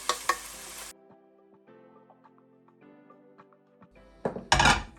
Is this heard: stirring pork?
yes